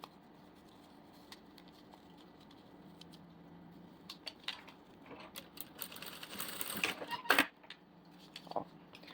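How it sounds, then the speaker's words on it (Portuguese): A sewing machine runs a short stitch close along the edge of linen fabric, its faint motor whir building into bursts of rapid mechanical clatter near the end. "passo uma costurinha bem na beiradinha, só pra segurar"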